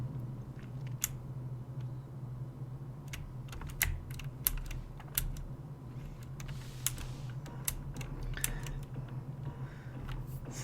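Steady typing on a computer keyboard, with irregular close key clicks running throughout over a constant low hum.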